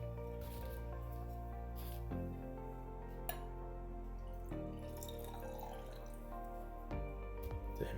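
A heavy pour of Russell's Reserve 10 year bourbon runs into a glass, a quiet, soft liquid splash close by in a hushed room.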